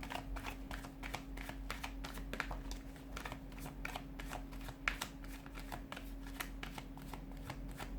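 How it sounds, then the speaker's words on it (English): Continuous rapid flutter of tarot cards being shuffled close by, steady and rhythmic, with a low hum underneath. "give the cards a shuffle"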